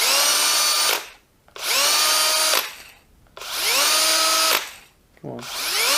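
A Milwaukee power drill running with the chuck spinning, three long loud whirring runs that spin up and wind down, separated by brief pauses, close and harsh.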